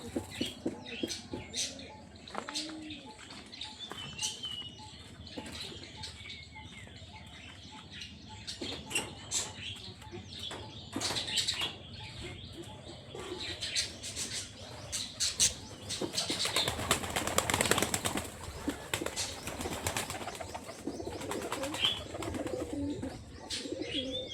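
Pet pigeons let out of their home loft flap their wings in bursts of rustling flutter, growing denser and louder toward the middle, with scattered soft coos and scratching around them.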